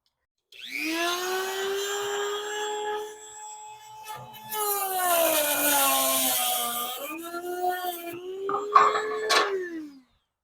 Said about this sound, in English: I'm going to just use my rotary tool and use my little cutting blade